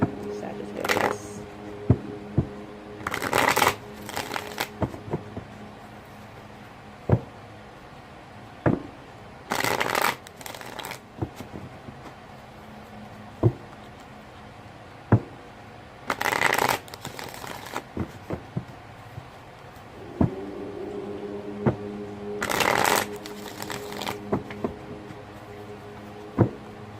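Tarot cards being shuffled in repeated riffling bursts, close and crisp, with a voice speaking in the pauses between shuffles.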